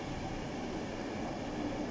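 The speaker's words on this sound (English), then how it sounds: "There's another Pendolino" A steady, rumbling roar of a Pendolino train going by at a distance at South Hampstead, continuous wheel and rail noise without breaks.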